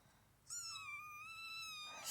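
A scared female cat, kept in a kitty cage, lets out a single drawn-out, plaintive whimpering meow, thin and tonal, held for about a second and a half against a quiet room.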